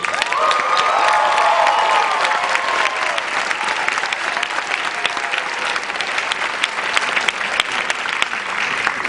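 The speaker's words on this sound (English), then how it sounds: "So you cannot start this movie without a big round of applause for David Toohey." A movie audience bursts into loud, sustained applause for David Toohey, with cheering and a shrill whoop early on, the clapping continuing densely throughout.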